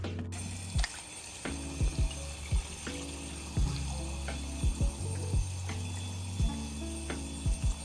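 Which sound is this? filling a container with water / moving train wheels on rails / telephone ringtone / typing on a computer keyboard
filling a container with water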